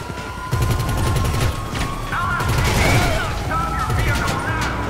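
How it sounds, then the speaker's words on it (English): A machine gun fires in the video game GTA 5 as rapid, sustained bursts of clattering shots with brief breaks, loud and close, with mechanical clicks and faint voices underneath. "So I wonder if we can destroy a car with this machine gun."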